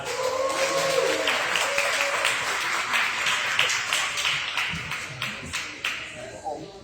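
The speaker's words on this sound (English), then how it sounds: "Please give me a round of applause, everyone." Applause from an audience at a Toastmasters installation evening, a crowd of hands clapping at moderate volume that thins into a few separate claps toward the end, with some talk beneath.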